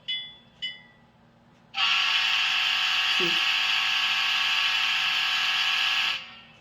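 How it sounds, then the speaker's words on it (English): After two quick bell dings, a ScaleTrains GTEL 8500 turbine model locomotive's loud, steady electronic horn blares for about four seconds, bright and buzzy, then cuts off abruptly. "That's the sound of the horn."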